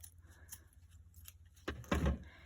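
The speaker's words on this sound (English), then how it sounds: "Now the top of the booklet, I'm gonna have to snip a little bit of that gold" Scissors snip gold paper at the top of a small matchbox-notebook booklet, faint light clicks followed by a louder close rustling crunch of paper near the end, with no talking.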